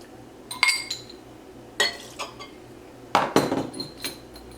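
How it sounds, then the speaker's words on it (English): A spoon clinks against the sides of a bowl while stirring a brown sugar baking mixture, with several sharp, bright metallic taps coming in irregular bursts separated by quiet pauses and no voices. "So now we're going to mix this until it's well combined, about a minute."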